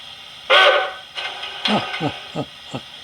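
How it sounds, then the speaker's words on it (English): Blunami sound decoder in an O scale Hudson locomotive gives a short steam whistle blast, loud and close, followed by a few softer chuffing bursts in quick succession. "That's the short whistle."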